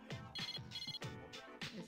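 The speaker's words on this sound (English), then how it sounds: "Hang on, I have a phone call." A telephone rings in the video game Persona 3 Portable, a rapid trilling bell repeating in several short bursts, clear and fairly close with no talking over it.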